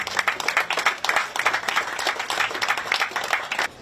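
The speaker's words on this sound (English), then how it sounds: "give the volunteers a round of applause" A room of people at a club gives its volunteers a round of applause, lively irregular clapping that swells and dips throughout, close and fairly loud with no talking.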